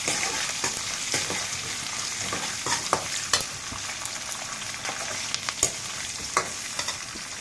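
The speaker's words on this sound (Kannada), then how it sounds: "ಉದ್ದಿಗೆ ಕಟ್ ಮಾಡ್ಕೊಂಡಿರುವಂತಹ ಒಂದು ಈರುಳ್ಳಿಯನ್ನು ಹಾಕೋಣ ಇವಾಗ ಸ್ಟವನ್ನು ಫ್ಲೇಮ್ ಮಾಡಿ ಎಲ್ಲ ಒಂದ್ಸಲಿ ಮಿಕ್ಸ್ ಮಾಡೋಣ" Sliced onion sizzles steadily in a pan on the stove for vangi bhath while a spoon stirs it, giving scattered sharp scrapes and clinks over the constant frying hiss, close by and without talk.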